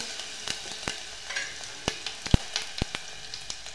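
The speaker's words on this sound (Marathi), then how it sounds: "तेल तापल्यानंतर जिरं मोहरी टाकायची, बारीक चिरलेला लसूण," Cumin, mustard seeds and finely chopped garlic crackle in hot oil for a Maharashtrian matki bhaji, with sharp, irregular pops spattering over a soft, steady sizzle close to the pan.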